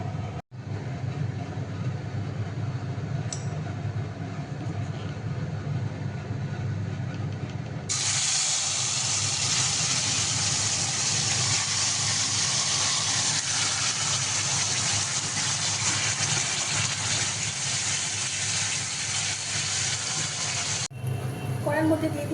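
Home-grown leafy greens dropped into hot oil in a wok burst into a loud, steady sizzling hiss that starts abruptly and holds close and strong, following a quieter low rumble of heating oil.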